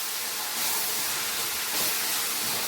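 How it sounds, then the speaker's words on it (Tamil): Egg frying with drumstick leaves in a pan gives a steady, broad hiss and sizzle, close and even, with slight swells in loudness and no talk. "முட்டை நல்லா ஃப்ரை ஆகுற வரைக்கும் வதக்கிட்டே இருங்க"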